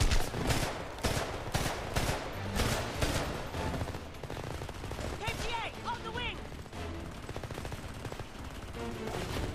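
Rapid bursts of gunfire rattle in the shooter video game Homefront, repeating in quick clusters throughout, mixed with game effects and some speech.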